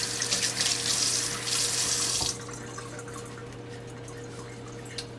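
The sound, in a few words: rinsing a hand under a running water tap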